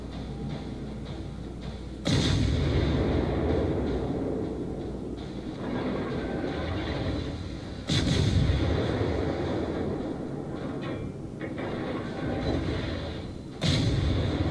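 Destroyer guns firing in World of Warships, heard as three loud broadband booms spaced several seconds apart over a steady rumbling game background, with no talking.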